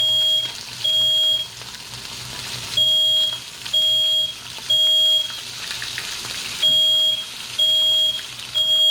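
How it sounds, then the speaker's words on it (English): A smoke alarm chirps in regular, piercing beeps, about one a second with brief gaps, loud and near against faint background hiss, set off while red snapper fillet cooks on high heat. "That's the smoke detector going off over there."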